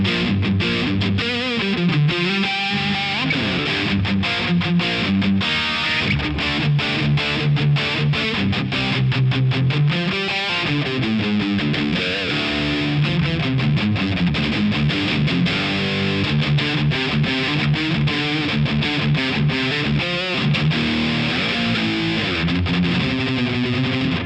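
An electric guitar plays through an EVH 5150 III 50-watt 6L6 amp on channel 2, miked at the cab with Levitation reverb added: loud, continuous distorted riffing with chugging palm-muted notes and sustained chords, with no talking.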